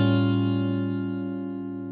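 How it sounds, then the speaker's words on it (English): A sustained augmented seventh chord rings out as one steady, loud block of stacked tones, alone and slowly fading over two seconds with a touch of reverb. "giving us an augmented 7th chord"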